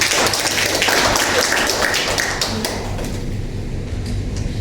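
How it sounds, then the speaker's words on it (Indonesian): Church congregation at a Sunday service applauding, a dense burst of many hands clapping that gradually thins and fades, heard from within the room with no talk over it. "Beri tepuk tangan untuk Allah kita."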